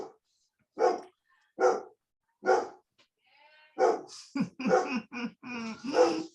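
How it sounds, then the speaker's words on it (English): A dog barks in a room, three evenly spaced single barks followed by a quicker cluster of barks and yips, fairly close and alone without talk. "My dog."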